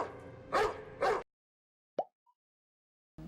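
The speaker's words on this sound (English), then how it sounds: "Nice dog." A dog barks twice in quick succession, loud and close, followed by a short yip and a faint squeak before silence.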